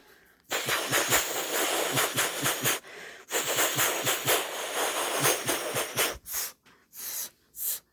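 A train rushes past close by, its loud roar pulsing with rhythmic clacks, briefly dropping out and returning before breaking into separate bursts near the end.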